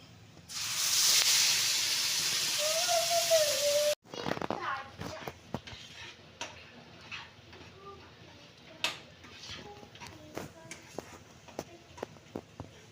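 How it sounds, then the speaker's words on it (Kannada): Ground masala paste with mustard seeds and cumin hits hot oil in a pan, setting off a loud broadband sizzle for a few seconds. After it settles, scattered crackles and pops continue against a softer frying hiss. "ಎಣ್ಣೆ ಬಿಸಿಯಾಗಿದೆ, ಸ್ವಲ್ಪ ಸಾಸಿವೆ ಹಾಕ್ಕೊಳ್ತಾ ಇದ್ದೀನಿ, ಸ್ವಲ್ಪ ಜೀರಿಗೆ ಹಾಕ್ಕೊಳ್ಳೋಣ. ರುಬ್ಬಿರೋ ಮಸಾಲ ಹಾಕ್ಕೊತಾ ಇದ್ದೀನಿ."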